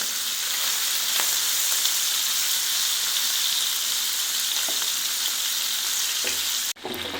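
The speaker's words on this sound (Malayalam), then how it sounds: "ഞാൻ ഈ ചെമ്മീൻ ഇട്ട് കൊടുത്ത് ഒന്ന് ഫ്രൈ ചെയ്തെടുക്കുകയാണ്" Prawns frying in a pan for pickle, giving a bright steady sizzle and spatter with occasional stirring clicks and a sudden knock near the end, without speech.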